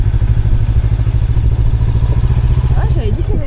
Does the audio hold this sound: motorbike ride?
yes